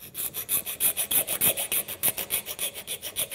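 Rhythmic rasping of a hand file enlarging a hole in a Kia Ceed during a car radio and antenna install, back and forth, about a dozen even strokes per few seconds, close up and steady.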